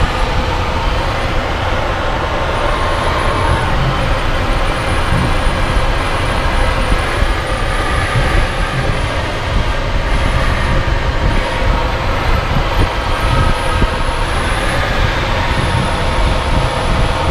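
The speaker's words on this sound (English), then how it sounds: "This is one of the noisiest gliders there is." Cockpit of a notably noisy glider in flight, a loud steady rushing roar of wind that holds without letup, with a faint thin whistle above it.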